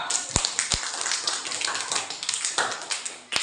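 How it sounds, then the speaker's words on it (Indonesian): Schoolchildren in a classroom clap their hands together, a short uneven burst of claps with a couple of sharp louder smacks standing out near the start, close and fairly loud. "Ayo, tepuk tangan sama Judika."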